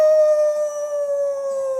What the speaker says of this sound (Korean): 어디서 늑대 울음소리가 나잖아.